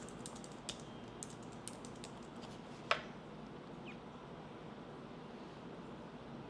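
Keystrokes on a computer keyboard as a business name is entered, a few soft scattered clicks and one sharper tap over steady background hiss, close and quiet with no talking.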